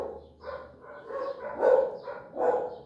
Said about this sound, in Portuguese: Aqui estão os cachorros, aqui os cachorros do vizinho.